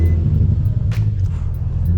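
Nissan 350Z rolling down a street on brand-new tires, a low steady engine rumble with road noise heard from inside the car, close and continuous.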